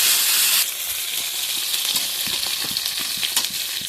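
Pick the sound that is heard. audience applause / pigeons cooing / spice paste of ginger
spice paste of ginger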